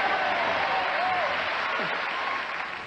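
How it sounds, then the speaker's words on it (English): A studio audience on the 1991 Wheel of Fortune game show during Chicago Week applauds in a steady, dense wash of clapping that holds throughout and tapers slightly at the end. "How many would applaud no matter what city I said?"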